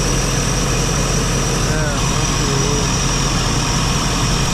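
A Case IH 9250 combine engine runs with a loud, steady low rumble and droning hum that fills the whole stretch close by, with no break or change in pitch.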